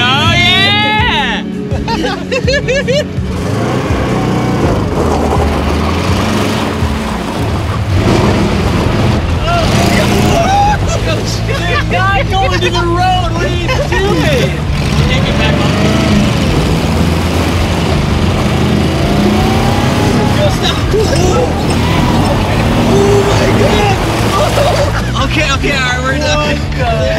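A tank engine roars and rumbles steadily while the tank is driven through city streets, loud and continuous throughout, with people talking and shouting over it.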